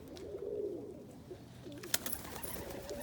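Pigeons coo softly inside a freshly cleaned loft, giving low, rolling calls with a brief flutter or tap partway through, all fairly quiet and without any voices.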